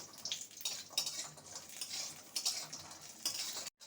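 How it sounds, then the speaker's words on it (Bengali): Steady crackling sizzle of black gram lentil dumplings frying red in hot oil in a wok, with occasional scraping stirs, close and continuous before a brief cutoff at the end. "বড়িটাকে লাল করে ভেজে নেব"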